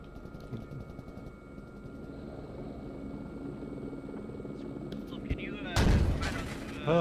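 A helicopter flies in the military video game Squad amid distant gunfire. It whirs steadily under people talking, and a loud rush of wind or rotor noise sweeps through near the end.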